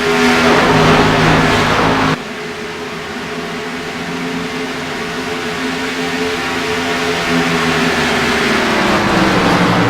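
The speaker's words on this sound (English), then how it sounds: "now Wes Holland in that number 4 car looks to battle him for third" Xfinity stock cars racing at Auto Club Speedway, a continuous loud engine roar with rising and falling pitch as cars pass, sharply cutting to a steadier sustained drone, with no talk.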